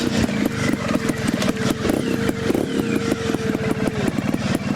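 Sherco STF 2025 trials motorcycle ridden close by, its single-cylinder engine pulsing in a quick, even chugging rhythm with short throttle blips and loud clattering.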